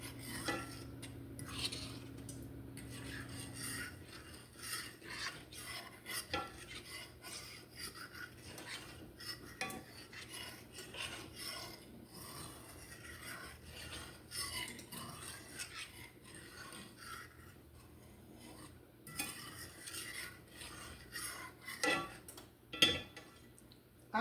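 Utensil scraping drippings from the bottom of a non-metal pan, a soft, quiet stream of scratchy strokes and small clinks repeating irregularly throughout, with no voices.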